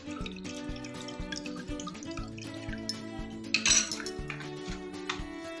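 Green chilli sauce is scooped from a mixer jar into a bowl, with close clinks and scrapes of a spoon against the metal jar and a brief wet splatter midway.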